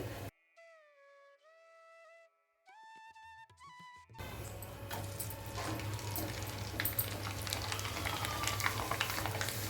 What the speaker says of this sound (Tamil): எண்ணெய் நல்லா காஞ்சக்கப்புறம் போட்டோம்னா அழகாக வீசி போரியும்